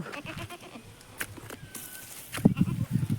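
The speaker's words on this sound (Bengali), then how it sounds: "এই যে ছাগলগুলো বসে আছে" Goats bleat in short calls near the end, with scattered rustling and faint background noise before them.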